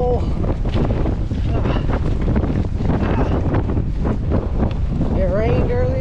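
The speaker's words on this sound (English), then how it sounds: "Windy day at the pole," Steady, loud wind buffets the microphone on a windy hilltop by a flagpole, a constant rushing roar with a faint voice briefly audible near the end.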